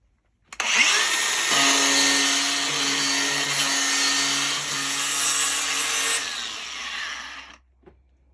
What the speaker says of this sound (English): the first step, once we got our board, is to just sand it smooth